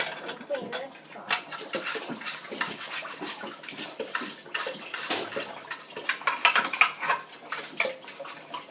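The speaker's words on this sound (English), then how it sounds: "Then we have to tip out this water and clean this part." Water splashes and trickles as a budgie's water dish is tipped out, a close, busy run of pouring and dribbling mixed with light clinks of the dish, steady for several seconds.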